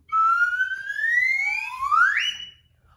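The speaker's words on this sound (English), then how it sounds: "We're gonna move just like my whistle." A clear whistle slides steadily upward in pitch over a couple of seconds, loud and close, then stops.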